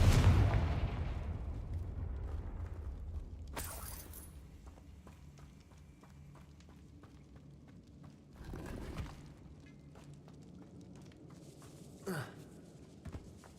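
A Confringo blasting spell goes off in Hogwarts Legacy, a loud burst at the start fading into a low rumble, followed by a few sharper magical cracks and impacts over quiet game ambience.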